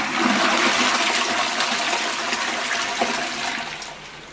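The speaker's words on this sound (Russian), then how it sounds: "Смываю воду." A toilet flushes in a single loud, continuous rush of water that gradually tapers off over a few seconds, heard alone at close range.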